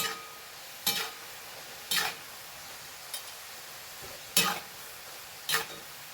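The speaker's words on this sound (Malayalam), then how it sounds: "ഇത് ഞാൻ രണ്ട് വറവായിട്ടാട്ടോ വറുത്തെടുക്കുന്നത്" Jackfruit pieces frying in hot oil in a pan, a faint low sizzle broken by five sharp stirring scrapes spaced about a second apart, no talking.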